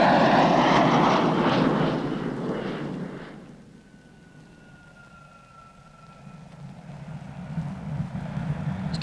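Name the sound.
RAF Avro Vulcan delta wing jet bomber flying overhead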